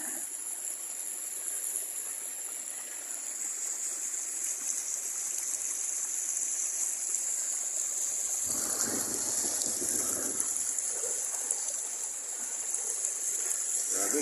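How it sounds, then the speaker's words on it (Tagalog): Steady rushing floodwater from Typhoon Paeng, a continuous broad roar with a bright hiss, close and loud throughout, with brief faint voices around the middle. "Grabing lakas ng baha."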